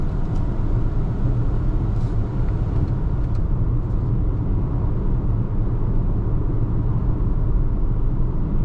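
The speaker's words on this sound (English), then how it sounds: "I do hear a little bit of whirring from the tires" Steady low road rumble and tire whir fill the cabin of a 2027 Kia Seltos X-Line SX while driving, a continuous even drone with no talk over it.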